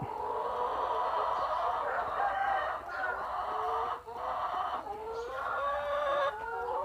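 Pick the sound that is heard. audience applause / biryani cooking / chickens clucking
chickens clucking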